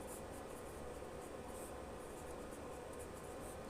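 Pen or marker writing during a math lesson, a faint steady scratching with short repeated strokes over soft background noise.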